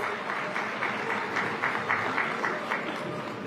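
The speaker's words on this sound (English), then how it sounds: "A huge round of applause, please, for all our dignitaries." A large audience at Mumbai Climate Week applauds the dignitaries, a steady wash of distant, even clapping that holds throughout at moderate level.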